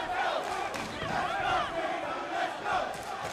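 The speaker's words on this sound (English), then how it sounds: "you can hear the chants from Peter the Sniper Salasui, the crowd favourite out of southeast Melbourne" At a Kings Of Kombat kickboxing event in Melbourne, a large crowd chants rhythmically for fighter Peter the Sniper Salasui, a loud, rolling, repeated vocal chant from many voices filling the arena.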